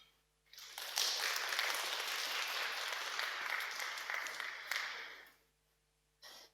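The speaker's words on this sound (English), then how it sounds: "let's give the speakers a big round of applause" An audience at a startup networking event gives the speakers a big round of applause: dense, sustained clapping that swells in after a quiet start, holds steady for several seconds, then fades, with a short burst returning at the end.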